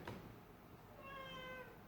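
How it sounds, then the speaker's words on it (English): A cat gives one drawn-out, faint meow with a clear tonal rise and fall after a short knock, heard indoors with no talking over it. "go away cat"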